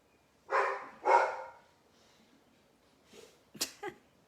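Two loud, close barks from a big dog, spaced about half a second apart, followed after a pause by a few softer, shorter vocal sounds.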